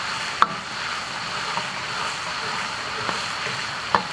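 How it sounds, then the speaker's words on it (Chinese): Doubanjiang and soybean paste sizzle as they are stir-fried in a wok. A soft, steady frying hiss runs throughout, with a few sharp clicks of the spatula against the pan. "给它炒拉沙"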